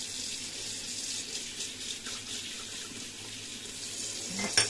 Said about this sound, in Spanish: Ahora los voy a meter en agua.